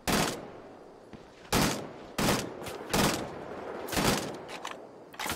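Gunfire in the Wolfenstein: The Old Blood game, loud, sharp shots in separate bursts about a second apart, each with a short tail, and quieter sound between the bursts.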